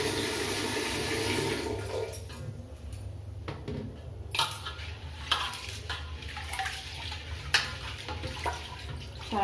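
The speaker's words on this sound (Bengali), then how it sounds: "চালটা ধুয়ে" Rice being washed under running tap water: a steady gush of water with soft splashing and swishing of grains, moderately close, continuing throughout without speech.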